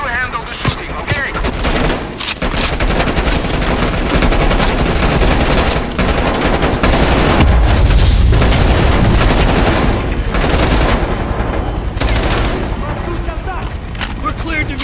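Heavy sustained gunfire from a helicopter in Call of Duty Black Ops Cold War, loud and close, with dense rapid bursts and deep booms rolling throughout and raised voices under the shooting.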